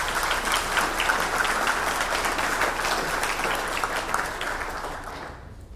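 An indoor audience at a talk in Germantown claps steadily to welcome a speaker, a dense, sustained round of applause that stays loud and then fades out at the end.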